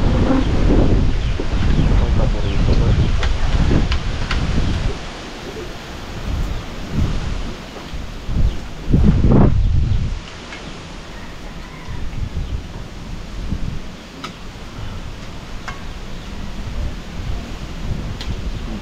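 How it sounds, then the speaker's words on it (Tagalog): Strong gusts of wind roar across an outdoor setting in Calaca, buffeting the microphone with loud, uneven rumbling bursts that swell and ease over time, while people talk intermittently beneath it. "Lakas ng hangin."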